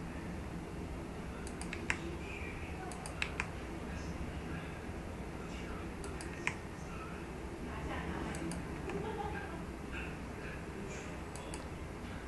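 Mouse clicks and computer keyboard key presses come from a desk during a Blender 3D modeling session, sounding as sparse, sharp, close ticks scattered over a steady hiss of background noise.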